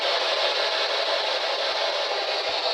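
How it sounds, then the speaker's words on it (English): A small electronic device gives off steady white noise, a loud, unbroken hiss at an even level from start to finish. "It's going to generate some white noise."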